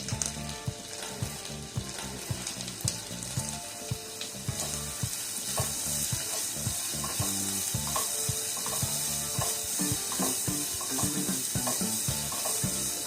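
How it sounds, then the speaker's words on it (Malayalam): Two medium-sized chopped onions sautéing in a pan for a mushroom masala, with a steady sizzle and repeated scraping and stirring clatter up close, and no voices. "ഇതിലേക്ക് ഇനി 2 മീഡിയം സൈസ് സവാള ചോപ്പ് ചെയ്തത് ചേർത്ത് നന്നായിട്ട് വഴറ്റി കൊടുക്കാം."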